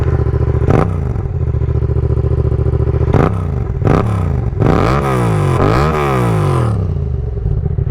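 A motorcycle with an aftermarket exhaust idles with a rumbling note, then revs up sharply several times, loud and close.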